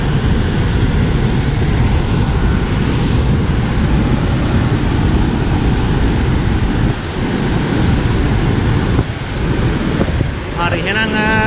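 Water pours over a reservoir spillway in a steady, loud, close rushing roar that runs unbroken throughout, with faint wind buffeting near the end.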